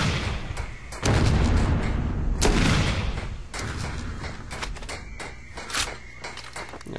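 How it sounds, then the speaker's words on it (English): A rocket launcher in the video game Far Cry fires two heavy booming blasts a little over a second apart, followed by quieter mechanical reloading clunks and scattered distant battle noise. "Reloads pretty fast for a rocket launcher."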